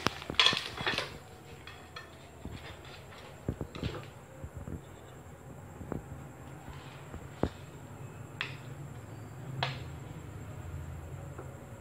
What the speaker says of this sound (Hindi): अब मैं इसको डिश आउट करती हूँ